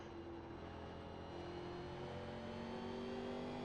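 A NASCAR Legends race car in iRacing accelerates, its engine droning steadily with a rising pitch, loud and continuous with no talk over it.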